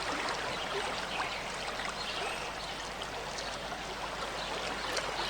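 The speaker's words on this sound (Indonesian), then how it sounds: "ini sungai Yabok" The Jabbok river runs in a continuous broadband rush of flowing water, steady and fairly close, with no voices over it.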